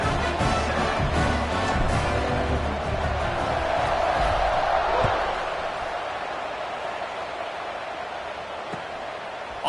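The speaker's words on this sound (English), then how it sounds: "this crowd is buzzing after that last score" A stadium crowd in a video game American football match keeps up a steady, broad buzz and murmur, loud at first and easing off slightly in the second half.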